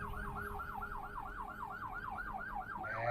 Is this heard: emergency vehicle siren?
yes